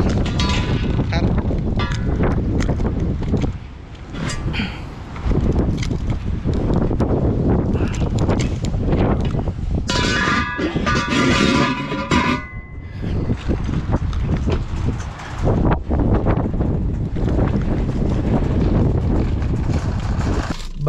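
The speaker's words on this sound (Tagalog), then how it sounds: "Ay, lakas ng hangin." Strong wind buffets the microphone outdoors in Canada, roaring steadily and close with gusty surges, while a voice talks at times and a brief tonal horn-like sound cuts through midway.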